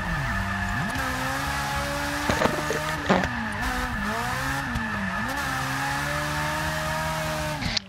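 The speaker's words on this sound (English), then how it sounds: "crazy Ferrari swap. Yeah, you can really hear that engine poking through." A Ferrari-engine-swapped drag racing car roaring at high revs at Monza, its pitch rising and dipping through gear changes, with brief sharp bursts, loud and sustained.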